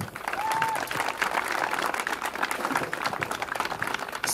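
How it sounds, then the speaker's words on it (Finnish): An audience at a harbour cruising car meet applauds Niko, dense clapping running steadily throughout, with a brief whistle near the start. "Nikolle kanssa aplodeja"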